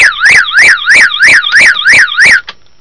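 A car anti-theft alarm siren wails loudly and close, sweeping up and down in a steady rapid cycle about seven times before cutting off abruptly.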